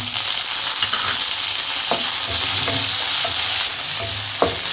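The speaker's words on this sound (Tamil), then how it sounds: "வெங்காயம் தக்காளி எல்லாமே நல்லா சாஃப்டாக வேகிற அளவுக்கு நல்லா வதக்கி விட்டுக்கிறோம்" Onion, tomato and garlic sauté in a pan for fish curry, giving a steady bright sizzle throughout, broken by occasional scrapes and knocks of a stirring spoon.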